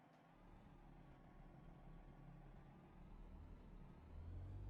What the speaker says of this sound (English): Oh, we should probably turn on the truck.